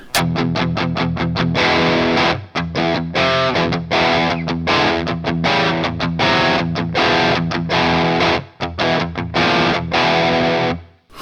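A loud, crunchy distorted Enya Inspire smart electric guitar plays chugging chords and riffs with brief pauses between phrases, thick and saturated throughout, no voices.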